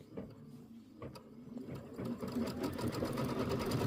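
A sewing machine stitches across the bottoms of quilt fabric squares, a steady close mechanical whir that builds in loudness and runs continuously without talk.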